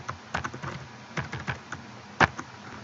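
Password being typed on a computer keyboard: a quick run of light key clicks in an irregular rhythm, close and clear, ending with one sharper, louder keystroke, with no talking.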